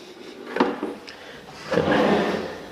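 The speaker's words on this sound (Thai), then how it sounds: "อันนี้เป็นลิ้นชัก 2 ชั้นครับ" A two-tier drawer in a custom L-shaped kitchen counter slides open and shut, giving a short wooden rub and knock near 0.6 s followed by a longer scraping glide around 1.7 to 2.4 s, close and moderately loud.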